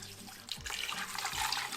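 Water pours steadily into an Instant Pot holding chuck beef, bone marrow, garlic, green onion and Anaheim pepper, a close, soft splashing rush for under two seconds with no talking.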